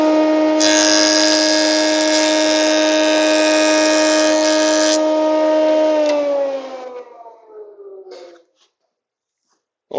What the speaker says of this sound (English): I'm going to buzz a 32nd of it off in the joiner